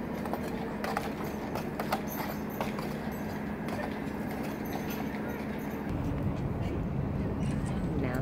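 Budweiser Clydesdale horses walking indoors at the American Airlines Center arena in Dallas, their heavy hooves clip-clopping in an irregular rhythm, with people talking over them and a steady hum of crowd and venue noise behind.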